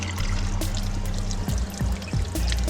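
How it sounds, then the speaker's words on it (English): Tiny natural spring flowing into a creek, a steady close trickle and pour of water with small gurgling splashes running continuously, with no talk. "is one of the tiny natural springs that flows into this creek"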